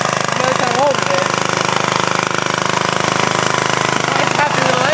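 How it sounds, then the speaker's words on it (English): An old antique walk-behind tractor engine runs with a steady, rapid thumping beat. It is close and loud throughout, with people talking over it. "It's happy little engine. Yeah, listen to that."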